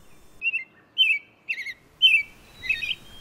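An American robin gives a handful of short, clear chirps and whistled notes in an irregular sequence, bright and fairly close against a quiet background near Niagara Falls.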